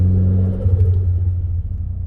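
A Nissan S14's ARC titanium exhaust rumbles steadily at a held 2000 RPM, a deep, loud, continuous drone with no voices.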